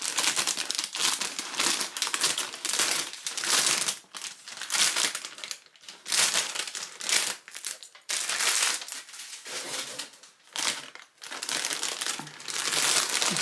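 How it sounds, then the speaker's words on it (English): Orange packing tape is cut and peeled off a reborn doll package, giving a steady run of loud close crinkling and tearing in bursts with brief pauses. "Cut off the dreaded orange tape."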